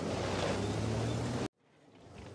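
A tank drives through water in World of Tanks on the Arctic Region map, a loud wash of churning, splashing water and engine rumble that cuts off abruptly, followed by a quieter, rising hiss.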